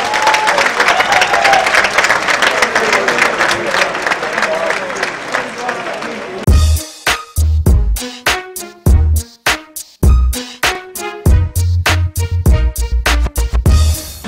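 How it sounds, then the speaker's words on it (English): Concert audience applauds and cheers for a performer at a live show, a dense wash of clapping for several seconds before sharp music beats and a voice cut in. "Let's give him a round of applause."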